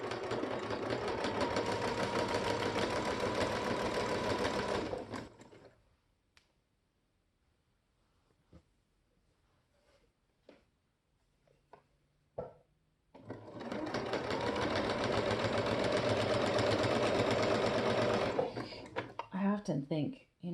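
Sewing machine stitching a t-shirt into a tank top, running in two loud, steady bursts of rapid stitching, each about five seconds long, separated by a quiet gap with small clicks and handling noises.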